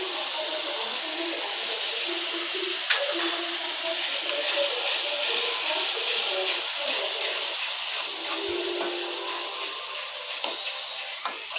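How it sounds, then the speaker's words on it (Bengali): Spices for chicken, turmeric, chilli and five-spice, frying in a pan, giving a steady close hiss and sizzle throughout with faint scraping stirs and a few small clicks. "ভালো করে কষিয়ে নিয়ে মশলাটাকে ভালো করে ভাজা ভাজা করে নিয়ে"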